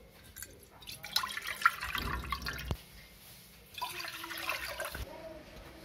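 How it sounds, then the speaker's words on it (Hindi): Four glasses of water are poured into a metal pressure cooker for methi saag in two short splashing bursts, close and fairly quiet, with a brief pause between them. "अब इसके अंदर मैं 4 ग्लास पानी डालूंगी कुकर के अंदर"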